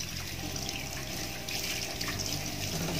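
Tap water runs steadily into a sink while rabbit meat is washed, a continuous close rush of flowing water with no voices.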